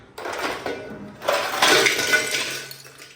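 Block of ice from a freezer cracking and breaking as it is dropped into a pot, with a sharp clinking crunch followed by a longer burst of rattling, scraping fragments, close and fairly loud.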